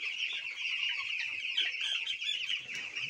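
A crowd of chickens clucks and peeps continuously, a dense chorus of many broiler chicks close by inside a poultry shed, with no talking.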